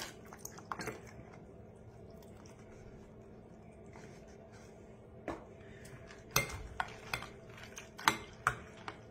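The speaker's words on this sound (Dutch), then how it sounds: "We mengen het geheel een beetje." Spoon stirring cream into a chicken and mushroom mixture, soft wet squelches under a low background hum, followed by several sharp scrapes and clinks against the dish.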